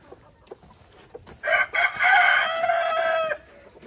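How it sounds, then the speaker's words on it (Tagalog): A farm chicken squawks loudly and close, a long harmonic cackling call after a few short sharp clucks, then drops back to quiet yard ambience. "Ito naman yung ating manok."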